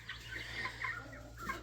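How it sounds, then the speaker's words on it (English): Brahma and white Orpington chickens clucking softly in a backyard flock, a steady low murmur of several hens with brief higher clucks scattered throughout, close by and fairly quiet. "These white birds, those are white Orpingtons."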